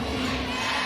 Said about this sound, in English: You can hear the crowd reacting.